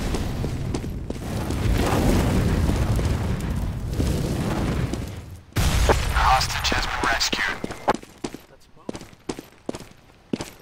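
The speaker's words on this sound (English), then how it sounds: "Incendiary out!" An incendiary grenade bursts in Counter-Strike: Global Offensive with a loud, roaring blast and a burning whoosh, followed by a string of sharp gunshots and crackling pops, while a player talks over it.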